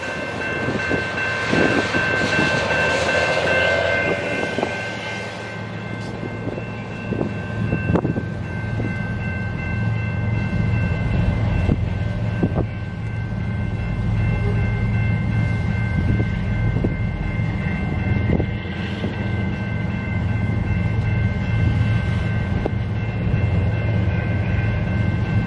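A CN freight train, a manifest with mid-train DPU locomotives, rumbles steadily past at close range, a loud continuous roar of rolling wagons and rail noise lasting throughout with no voices.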